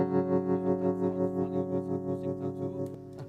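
Acoustic guitar tone shaped by reverb and delay effects, with sustained ringing chords and softly pulsing repeats trailing into a wash of echo.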